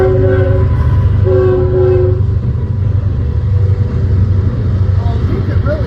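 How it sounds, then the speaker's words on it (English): A train passes close by, loud and steady, with a sustained horn blast sounding in repeated long tones over a continuous low rumble of rolling cars. "we're gonna let the train go by"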